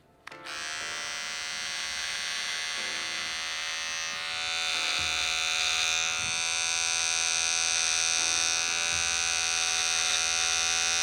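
An electric beard trimmer runs steadily on a beard for about eleven seconds, a bright close buzzing whine with small shifts in pitch and load as it passes through the hair, alone with no voices.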